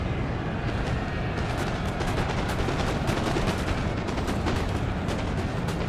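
Continuous massed musket volleys and artillery fire from a Napoleon: Total War online battle, a dense, loud, unbroken roar of overlapping shots and booms with no clear gaps.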